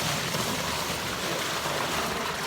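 Water pours into a laundry tub for hand washing on a homestead, a steady close rushing splash with no pauses and no talk.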